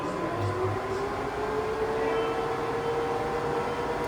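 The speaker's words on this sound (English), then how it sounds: "This is high speed," Summit 16x60B engine lathe from 2009 running at high speed, 800 RPM, gives a steady, continuous mechanical rumble and whir with a faint sustained tone and no pauses.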